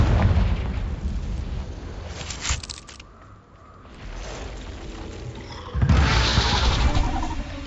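Confringo blasting spell in Hogwarts Legacy near an Acromantula cave, giving loud booming explosions. One heavy blast opens, the sound dips into a quieter lull, then a second powerful burst hits and rumbles on to the end.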